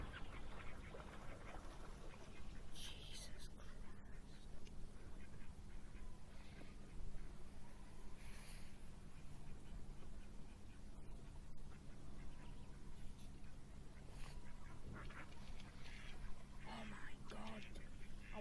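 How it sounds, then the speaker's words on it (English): Faint, scattered duck quacks come and go over a quiet outdoor pond background, with soft, low talking at times. "Ducks, bugger off."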